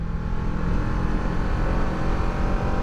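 A Kawasaki Ninja 650R motorcycle engine runs under way while riding, giving a loud, steady, close drone with a dense low rumble and no pauses throughout.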